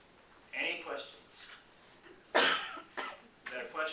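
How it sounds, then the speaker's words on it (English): A single sharp cough comes from an audience member at a talk on requirements gathering, heard between stretches of a speaker's voice. "Is that a question or just a cough?"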